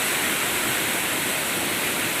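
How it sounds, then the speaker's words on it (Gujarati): Dodiya waterfall at Bilpudi roars as a steady, dense wash of falling water, continuous and fairly loud throughout with no voices. "આ ધોધનું નામ છે દોડિયા ધોધ. દોડિયા ધોધ તે બિલપુડીમાં આવેલું છે."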